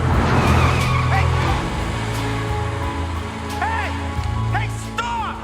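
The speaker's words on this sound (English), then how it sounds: "She then loads him into her car and speeds off." A car speeds away with tires skidding and squealing, several rising screeches cutting through a loud continuous engine and road rumble, with a voice mixed in underneath.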